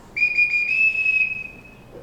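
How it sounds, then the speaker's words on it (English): A single sharp, high-pitched whistle blast sounds clearly, holding steady for nearly two seconds before fading, with a sea captain summoning people in a quiet room. "He didn't whistle for us when his wife was alive."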